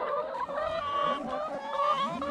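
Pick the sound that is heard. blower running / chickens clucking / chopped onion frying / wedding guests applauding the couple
chickens clucking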